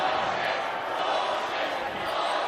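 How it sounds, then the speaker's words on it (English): Basketball arena crowd at a Utah State versus Wyoming college game voicing displeasure, a steady loud mass of murmuring and jeering voices filling the space without letup. "Crowd not happy."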